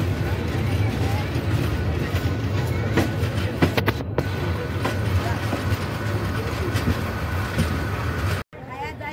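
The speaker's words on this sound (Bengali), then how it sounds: "চৌত্রিশ মিনিট বিলম্বে আমাদের 707 তিস্তা এক্সপ্রেস দেওয়ানগঞ্জ বাজার স্টেশন প্রবেশ করছে।" The 707 Tista Express rumbling into Dewanganj Bazar station, a steady loud low roar of rolling carriages with faint rhythmic clatter, continuous throughout.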